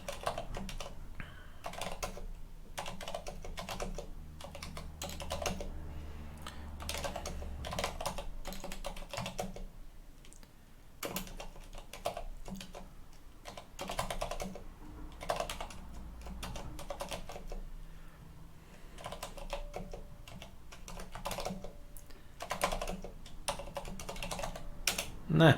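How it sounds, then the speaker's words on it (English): Fast typing on a computer keyboard, close and clear, with dense bursts of keystrokes broken by short pauses throughout. "Lots of typing."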